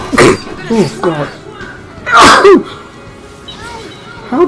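A person sneezes loudly, close to the microphone, with a couple of short bursts and a bigger sneeze midway, mixed with brief vocal sounds while playing Final Fantasy 13.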